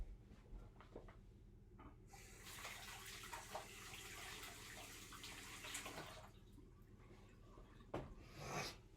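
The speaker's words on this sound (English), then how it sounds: "So we're going to wash our hands up quickly." A kitchen tap runs steadily as hands are washed under it, a continuous hiss of water lasting several seconds before cutting off, followed by a brief splash, faint and somewhat distant.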